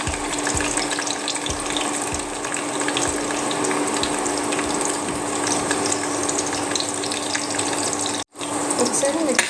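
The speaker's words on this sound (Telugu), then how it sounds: "ఆనియన్స్ కొంచెం వేగాయండి" Onions fry in a pan for an alu chicken curry, a dense steady sizzle with a faint hum, close up and unbroken apart from one brief dropout near the end.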